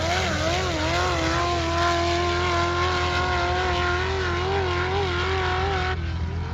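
A Pro EFI UTV race car engine on 91 octane screams at sustained high revs, loud and steady, with slight pitch wobbles as it races, engine noise alone throughout.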